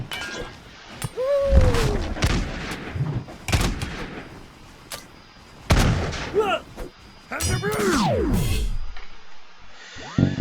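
Video game battle in T.A.B.S. with loud gunshots, artillery booms and crashing impacts in irregular bursts, mixed with whooshing projectiles and brief game voices.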